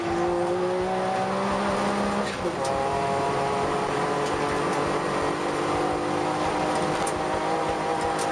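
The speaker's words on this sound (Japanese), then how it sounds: "その後ろ足立勝がピタリと後ろにつけるようなそんな感じの感覚ではないんですが、もう少しという距離で今最終コーナーへと向かっていきます" Turbo 660 race cars heading into the final corner at Ebisu East circuit, a loud sustained engine drone with shifting pitch and passing revs, a commentator talking throughout over it.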